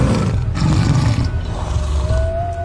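A tiger roars through a loud, dense low rumble during a storm with rain and thunder, the growl sustained and rough across the whole stretch with no speech.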